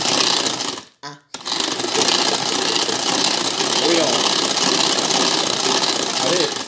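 A Speedy Chef kitchen appliance mixes sugar with egg yolks for floating islands dessert, its loud, steady motor whirring almost throughout with one brief pause, while people talk in French over it.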